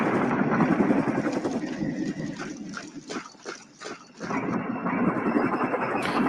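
A helicopter in the wargame Flashpoint Campaigns: Southern Storm gives a steady, loud, whooshing rotor drone with some rhythmic pulsing and a brief dip midway. No voices are heard over it.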